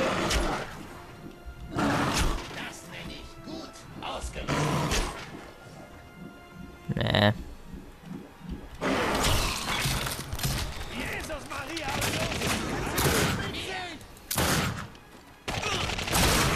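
Gunfire in the video game The Darkness 2: bursts of shots, crashes and thuds come in loud clusters, with someone talking over and between them.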